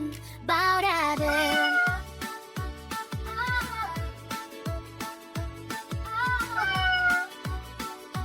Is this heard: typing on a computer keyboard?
no